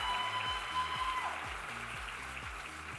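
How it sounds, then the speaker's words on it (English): Audience applause at the 2023 Miss Seattle Scholarship Competition pageant, a steady, dense wash of clapping lasting the whole stretch, with faint tones and a low music bed underneath. "So let's give her one more round of applause."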